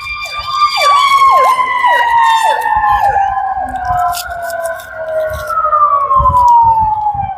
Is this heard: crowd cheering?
no